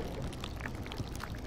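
Water sloshes and splashes continuously as a character wades into water in the horror game Amnesia Rebirth, a close, steady pouring and churning sound with no talking.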